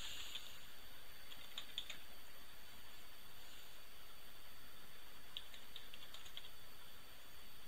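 Faint keystrokes on a computer keyboard come in a few short bursts of light clicking over a quiet room hum, with gaps between the bursts.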